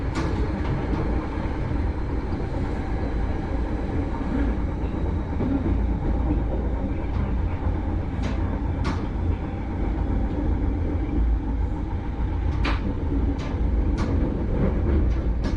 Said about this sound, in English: Our train slows for the 20-mile-an-hour speed restriction across the junction